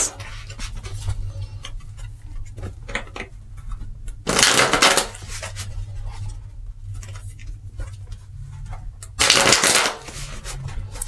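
A deck of tarot cards being shuffled by hand close up, with soft rustling and tapping broken by two loud riffle bursts about five seconds apart, and no talking.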